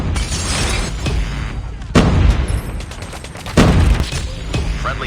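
Swarm scorestreak attack in the Call of Duty Mobile Shipment map: dense, loud gunfire and blasts throughout, with heavier booming surges near the two- and three-and-a-half-second marks.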